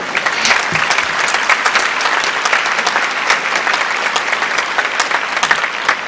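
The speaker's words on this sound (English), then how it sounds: "why don't we give them a round of applause?" An audience at a university computer science senior celebration applauds programming contest teams: dense, sustained clapping from a sizable crowd, steady and loud for several seconds with no talk over it.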